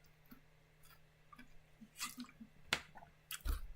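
Close, quiet wet chewing with soft squishy mouth clicks and smacks, irregular bites spread across a few seconds over a faint steady hum.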